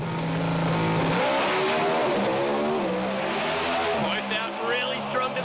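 Drag racing cars scream down the strip at Perth Motorplex during a final, with loud, sweeping engine roars rising and falling under excited commentary.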